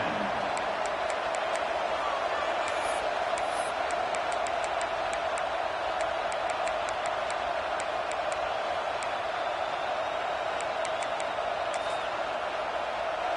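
Football stadium crowd, a broad, steady roar that holds at an even level throughout, distant and washed out, with no clear voices standing out.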